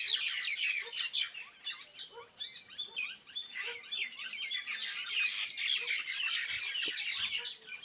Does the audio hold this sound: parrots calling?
yes